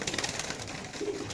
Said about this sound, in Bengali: কবুতরের ডাকটা দেখাই দেই